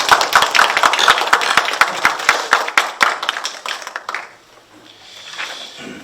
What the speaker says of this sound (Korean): 한번 박수 한번 주십시오.